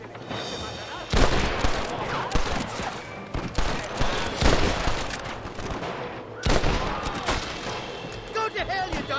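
Enemies fire down from a clifftop in Red Dead Redemption 2: loud, ragged volleys of rifle and pistol shots that crack in sudden bursts, mixed with shouting voices.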